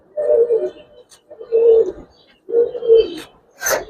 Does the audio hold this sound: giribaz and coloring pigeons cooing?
yes